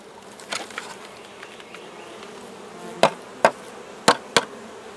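Honey bees hum in a steady low drone close by around a hive, with a few sharp knocks or taps near the end.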